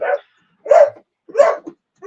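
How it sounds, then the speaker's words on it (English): Dogs bark close by in loud, evenly spaced single woofs, about four barks with short silent gaps between them and no other sound. "the dogs are barking, sorry."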